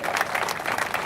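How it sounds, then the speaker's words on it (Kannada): Applause from an audience at a welcome ceremony for a retired soldier, a loud, dense, steady clatter of many hands clapping together with no break. "ಜೋರಾಗಿ ಚಪ್ಪಾಳೆ ತಟ್ಟುವುದರ ಮೂಲಕ"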